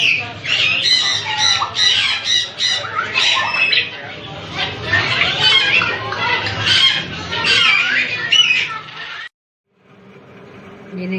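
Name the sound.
pet parrot squawking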